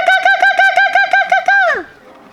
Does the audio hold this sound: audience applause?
no